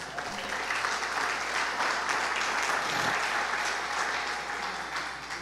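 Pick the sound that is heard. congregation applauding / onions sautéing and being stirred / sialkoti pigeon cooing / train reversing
congregation applauding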